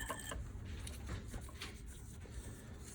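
A machine under repair runs with a worn bearing, giving a quiet, rough grinding rattle with irregular clicks and scrapes throughout.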